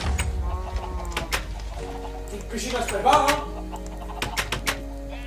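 Chickens clucking in Minecraft, short bursts of fowl calls scattered through the clip while French speakers talk over them.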